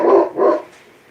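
A dog barks twice in quick succession, close and loud, then falls quiet, indoors during a family's live evening broadcast.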